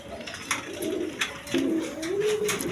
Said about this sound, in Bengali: এখানে এক পেয়ার শৌখিন কিং কবুতর আছে